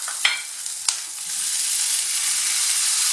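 Tomatoes go into a pan of ratatouille, setting off a bright, steady sizzle with a couple of sharp crackles near the start, then a continuous close frying hiss.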